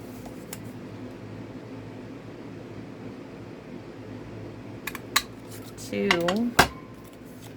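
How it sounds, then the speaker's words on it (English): A hand punch cuts decorative end pieces from craft paper: a couple of sharp, close clicks and a brief crunch of paper, with a person speaking over a steady room hum. "I need to punch two more because we have 3 sayings"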